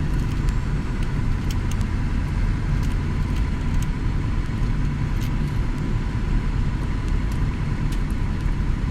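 Steady engine and road noise fill a car driving along a road. The car has an underboost fault and a cylinder 4 fault. The hum stays loud and constant from inside the cabin, with no talking.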